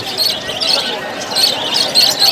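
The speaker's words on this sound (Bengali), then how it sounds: "মার্শাল্লাহ অনেক পাখি দেখুন।" Many caged lovebirds, budgerigars and cockatiels at a busy bird market chatter and squawk together, a dense, continuous wash of shrill high calls with brief louder bursts throughout.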